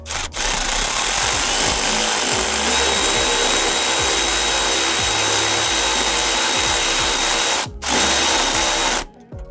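A power tool with a socket tightening a bolt on a Ford F-150 Raptor during a fog light install, a loud continuous whirring drone running steadily with two brief stops near the end.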